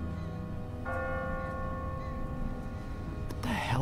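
A church bell tolls in The Walking Dead video game, a sustained ringing tone with a second strike near the end, heard over a steady low background hum.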